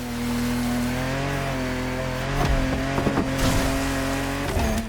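Loud, close engine of a Peugeot 3008 DKR V6 bi-turbo rally raid car in a racing game, holding a steady droning note, then revving with sharp bursts and tire noise near the end.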